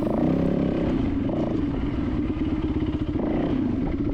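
A hard enduro motorcycle rides through a canyon in Jawbone, its engine a loud, close, continuous chugging rumble with clattering over rough ground and slight swells in throttle.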